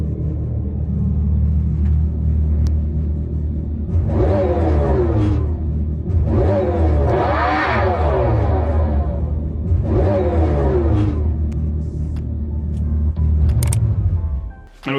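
Synthetic engine sound from a Dodge Charger SRT Daytona EV, a loud, deep rumble with three rising, sweeping roars like revving, over a constant low drone that continues for the full length.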